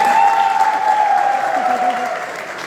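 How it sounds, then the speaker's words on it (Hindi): Applause from the audience at an IMC business convention in Goa, a steady wash of clapping that fades slightly across the stretch, with a sustained tone and a voice faintly audible underneath. "तालियां।"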